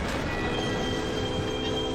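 A train in Final Fantasy XIV rumbles along steadily while its wheels squeal continuously, a loud, sustained metallic drone with no talk.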